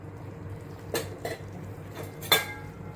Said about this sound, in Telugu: కొద్దిగా గ్రైండ్ చేసుకున్న గరం మసాలా వేసి ఒకసారి ఇలా కలిపేసేసి